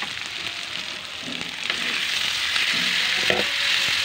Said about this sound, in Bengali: গরম মশলা দিয়ে কষিয়ে নিচ্ছি।